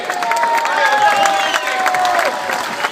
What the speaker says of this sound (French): on peut les applaudir, on peut les encourager